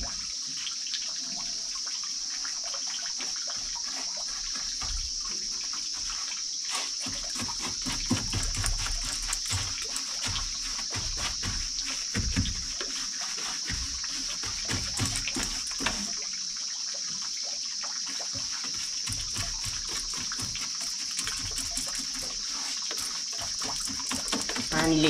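Water sprays and splashes against a wall being painted, a steady hissing spray with irregular spattering bursts throughout, fairly close and continuous.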